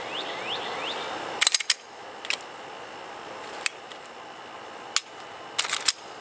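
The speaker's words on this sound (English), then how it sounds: "As well as putting the pistol back into the holster." Pistol drawn from and reholstered in a Black Scorpion Gear competition holster, giving a few sharp clicks and snaps spaced across the clip, close and clear over faint background hiss.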